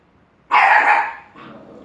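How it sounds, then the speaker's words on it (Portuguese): A dog lets out one loud, close bark followed by a shorter, fainter yip in an otherwise quiet indoor room. "Me desculpa, o cachorro do cameraman aqui."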